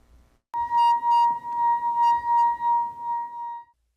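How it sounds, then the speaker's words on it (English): A glass harp rings as a finger rubs a glass rim: a single sustained, pure tone starts suddenly and holds steady for about three seconds with slight pulsing, then cuts off, loud and close, with no speech. "The friction between your finger and the rim of the glass creates resonance"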